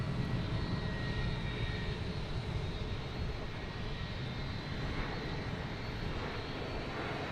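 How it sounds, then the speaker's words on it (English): American Airlines Boeing 737-800 jet landing at Boston Logan Airport, a steady broad roar of engine noise heard continuously from a moderate distance with no talking. "American Airlines coming in from Dallas-Fort Worth on a 737-800."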